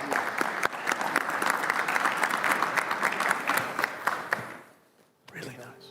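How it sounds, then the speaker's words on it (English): Conference audience applauds in a dense, sustained burst of clapping that fades out near the end, followed by a brief murmur of voices. "Can we give a nice round of applause to our audience?"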